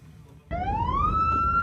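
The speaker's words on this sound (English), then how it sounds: "The sound of sirens in Rafah is constant." A siren wails in Rafah, rising steadily in pitch as it starts up suddenly after a quiet moment, loud and sustained with a low rumble of background noise beneath it.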